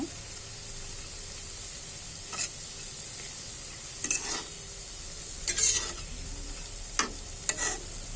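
Pitha fritters made with jackfruit juice fry gently over low heat in a pan, with a soft, continuous sizzle broken by occasional scrapes and clicks from turning them.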